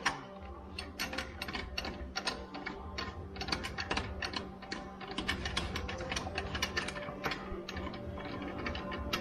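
A ratchet clicks quickly and steadily as a puller is screwed into a Dura Clutch, a dense run of close mechanical ticks with no talking.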